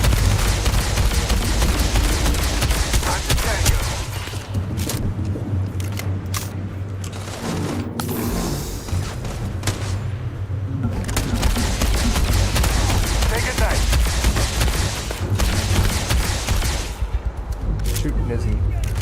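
Rapid gunfire in the sci-fi video game Starfield, dense bursts of shots and booms during a large fight, loud and nearly continuous, with someone talking over it.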